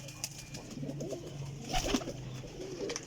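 Pipla-breed Kajal pigeon cooing in soft, low throaty bursts amid faint background rustle and noise, fairly distant and quiet.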